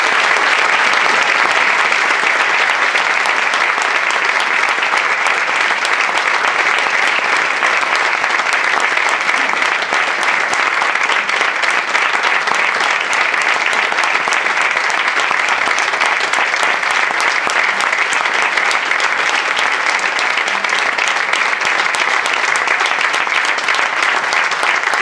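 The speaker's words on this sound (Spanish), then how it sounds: "Os pido un aplauso para ella" Dense, steady applause from an audience at a library book club event in Hoyo de Manzanares, loud and unbroken for the whole stretch.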